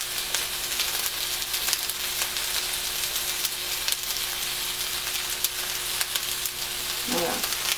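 Chicken gizzards frying in a pan give a loud, steady close sizzle with crackling throughout, and a short voice murmurs near the end.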